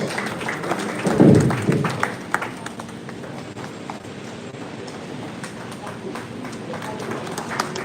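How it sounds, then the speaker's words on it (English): An audience at a Rotary district public image seminar gives a round of applause, heard as scattered, moderately loud claps spread across the whole stretch, with a voice briefly audible near the start. "Please let's give her a round of applause."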